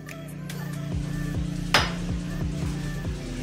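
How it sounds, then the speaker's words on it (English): Oxtails being tossed with seasoning in a metal pot, with a series of scraping, clinking stirs and one sharper clang, close up over a faint background hum, no talk. "take these oxtails and mix them in with the seasoning so they can all be well coated in our seasoning mix"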